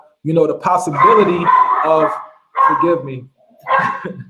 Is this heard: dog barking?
yes